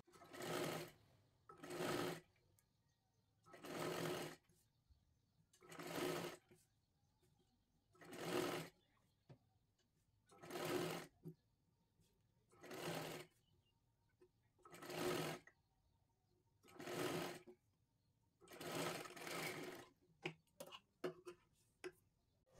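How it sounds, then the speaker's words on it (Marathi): Sewing machine stitching a round blouse neckline: about ten regular bursts of quiet, rapid mechanical running separated by short pauses, ending in a flurry of brief stop-start stitches. "पूर्ण शिलाई आपल्याला गळ्याला गोलाकारामध्ये मारून घ्यायची आहे"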